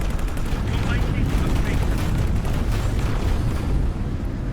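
Spaceship turrets firing in X4: Foundations, heard as a dense, continuous barrage of rapid, loud blasts that runs steadily throughout.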